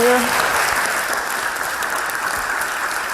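Applause from an audience at a live speaking event with a question session, a broad steady wash of many hands clapping, fairly loud and even, with a brief voice at the very start.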